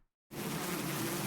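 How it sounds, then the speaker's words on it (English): Swarm of bees in The Hundred Line video game, a loud, dense buzzing that starts abruptly after a brief silence and holds steady. "Launcher's bees descended furiously from above."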